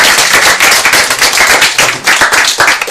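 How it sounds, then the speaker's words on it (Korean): Audience clapping in rhythmic unison at a school talk event, loud, close, sharp claps in a regular beat with slight swells. "다시 한번 힘찬 박수로"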